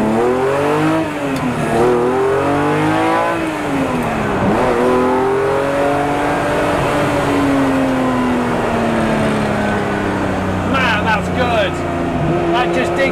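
A 600 bhp restomod Ferrari 250 GTO revs and accelerates hard from 0 to 60, pitch climbing through several gear changes with a loud throaty exhaust, close and continuous.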